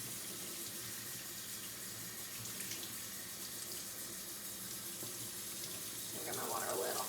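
Hot tap water runs steadily into a sink, a soft continuous splashing that grows a little louder and rougher near the end as a soapy cloth is rinsed under it.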